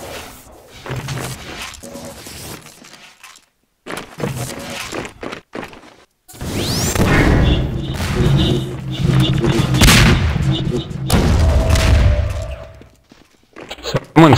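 Rocket fire and blasts in a Half-Life 2 Deathmatch match: bursts of loud booms and thuds come and go in clusters, with brief silent gaps, alongside scattered game noises and possible voice chatter.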